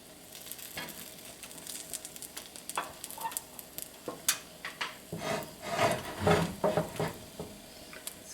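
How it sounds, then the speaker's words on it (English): Custardy French toast sizzling and frying in a cast iron pan, a steady close crackle with scraping and shifting as the pan is moved around, louder toward the end, with no talking. "sometimes with a cast iron pan, I have to move the pan around a little bit to get the even cooking"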